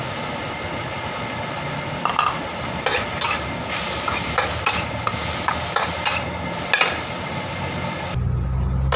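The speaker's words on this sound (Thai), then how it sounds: "ผัดไปเลยครับ ผมผัดกับหมู" Pork being stir-fried with curry paste for a Thai jungle curry with fresh bamboo shoots makes a loud, steady sizzle, with a utensil repeatedly scraping and clacking against the pan, and no talking.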